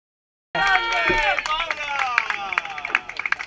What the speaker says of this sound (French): Vos applaudissements pour Carla Garcia Medina.